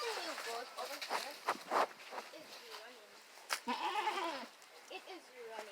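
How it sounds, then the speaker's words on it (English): A goat bleats repeatedly on a goat and sheep farm, several close, wavering cries mixed with footsteps and shuffling, with people talking in between. "Here is the new goat over here."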